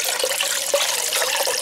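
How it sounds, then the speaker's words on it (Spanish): Water poured into a pot of sugar syrup for candied fruit, a steady close splashing trickle with a few brief gurgling bursts, no talking. "le vamos a agregar 1 litro más de agua"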